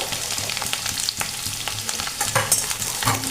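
Moringa drumsticks fry in a pan for a coconut-and-poppy-seed posto, a steady sizzle broken by repeated scraping stirs of a spatula, close and fairly loud with no talking.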